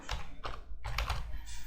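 Typing on a computer keyboard while entering Maven compiler settings, heard as a few close bursts of clustered key clicks with brief pauses between them, no voices.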